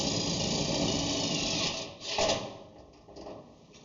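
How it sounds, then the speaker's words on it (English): A self-drilling screw is driven by a power driver into a thin sheet metal electrical panel, a steady whirring grind for about two seconds, then a brief louder bite and shorter bursts as it seats. "This one's drilling its own hole."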